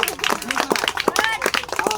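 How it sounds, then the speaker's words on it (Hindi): A village crowd claps at an outdoor magic show, quick, irregular hand claps from several people mixed with raised voices and chatter close by. "ताली बुलाइए"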